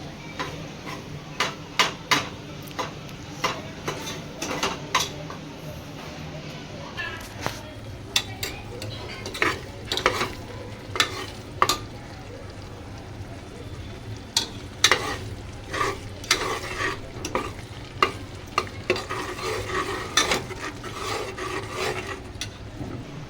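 Butter and chicken fry in a pan while being stirred, a steady sizzle under repeated sharp scraping clicks of a spoon against the pan, with occasional voices in the background.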